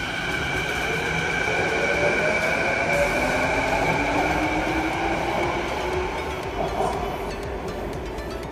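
A passenger train rolls past on the rail route between Halifax and Vancouver, a steady loud rumble of wheels and carriages that holds for the whole stretch, with a faint rising whine near the end and no talking.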